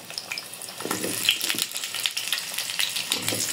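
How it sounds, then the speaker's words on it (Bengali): Raw potatoes sizzle and fry steadily in hot oil in a pan, part of a home-style Bengali country-chicken curry. The crackle is close and continuous, with occasional stirring. "এই পর্যায়ে আমি আলুগুলো ভেজে নিব।"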